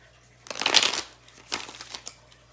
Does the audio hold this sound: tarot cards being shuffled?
yes